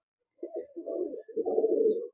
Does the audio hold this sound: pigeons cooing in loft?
yes